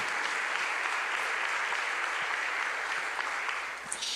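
A church congregation applauds during a sermon, a steady wash of clapping heard at a moderate distance and fairly soft, continuing evenly without speech.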